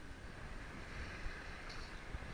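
Sea waves at a beach, a steady broad wash of surf and wind noise, faint and continuous with no voices.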